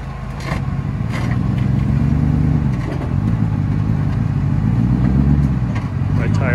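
A Jeep engine revs and labours through an off-road trail recovery on a rocky gulch climb, a loud, sustained rumbling drone with rising and falling pushes, while people talk over it.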